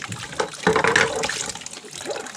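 Dishes being washed under running water, with splashing and clatter in an irregular rhythm, close and moderately loud, with no speech.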